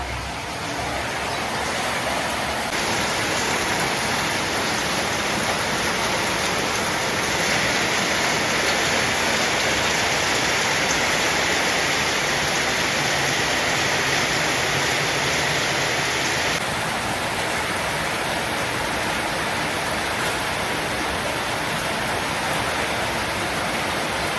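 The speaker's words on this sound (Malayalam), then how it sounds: "എന്ത് രസമല്ലേ മഴ." Steady heavy rain pours down in a dense, continuous hiss that stays loud and even throughout, with no talking.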